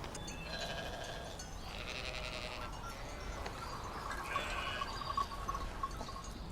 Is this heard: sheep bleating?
yes